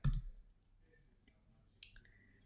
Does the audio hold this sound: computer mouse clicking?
yes